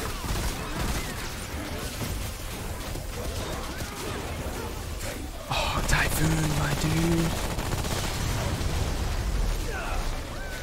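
Gunfire in the video game Remnant: From the Ashes, steady rapid shots running through a noisy combat mix, intensifying midway with a burst of heavier impacts while players talk over it.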